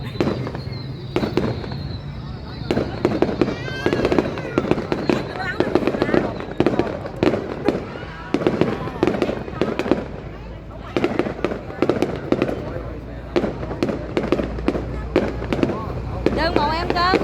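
A city fireworks display in Long Khanh bursts in a dense run of loud cracks and booms, some distant and some close, continuing for many seconds while people talk nearby.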